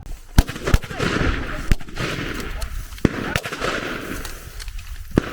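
Rapid gunfire from a German soldier reenactment in a forest, sharp loud cracks in irregular bursts over several seconds, with shouting voices in between.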